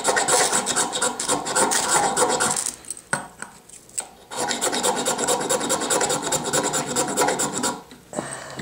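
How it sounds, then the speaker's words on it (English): A metal scraper rasps repeatedly along a ferro rod to light a wax tinder ball, giving fast, close scraping strokes in two long bursts separated by a short pause. "I may go through a whole freaking ferro rod here to light it."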